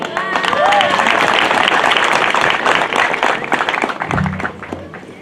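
Applause from a large audience at a university's first graduation ceremony, dense sustained clapping filling the hall and tapering off near the end, with a voice briefly audible over it.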